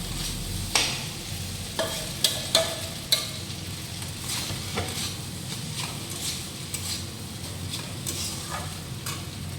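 Boiled pasta and fried eggs being stirred in a pan, a soft continuous sizzle broken by several sharp clinks of a utensil against the pan in the first few seconds, then quieter scraping.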